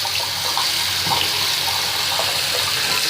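An object swished through water, tied to bubbling troubleshooting, makes a steady loud rushing wash of churning water with faint sloshing pulses, continuous and close throughout with no voices.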